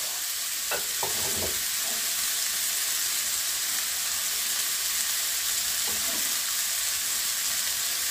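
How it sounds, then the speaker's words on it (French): Shallots added to mushrooms in a pan give a dense, continuous bright sizzle, with a few spatula scrapes and knocks early on and one more near the end, close and steady, no talking. "Au bout de 2 minutes, je viens ajouter mes échalotes."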